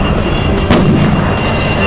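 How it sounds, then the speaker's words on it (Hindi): A firecracker bursts in a single sharp crack partway through, set against a dense, steady roar of background noise, with no voices heard. "वो पंकु ने पटाखा चलाया था ना"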